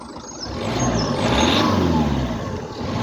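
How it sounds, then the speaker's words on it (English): A Ford Fusion 1.4 TDCi diesel car engine revs up and holds a raised, throaty roar for a few seconds before easing back, loud and close. "I'll rev the engine as well so you can hear it."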